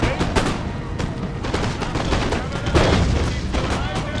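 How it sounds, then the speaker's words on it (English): Howitzers and musket fire in a Napoleonic battle in Total War: Napoleon, a dense, loud barrage of overlapping gunshots and booming cannon reports with a voice talking faintly underneath. "And my howitzers have started firing"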